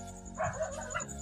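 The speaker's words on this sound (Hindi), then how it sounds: "कुत्ता भी डिस्टर्ब करता है" A dog barks a few times in the distance, with short yips behind a faint room hum and no talking.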